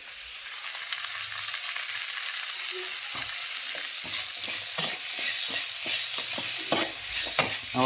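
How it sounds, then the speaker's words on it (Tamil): Tomatoes frying with salt and turmeric in a pan, a steady sizzle with repeated stirring scrapes and clacks that grow busier and louder toward the end, close by with no talk. "தக்காளி போட்டுட்டு அப்படியே உப்பு கொஞ்சம் போட்டுக்கலாங்க"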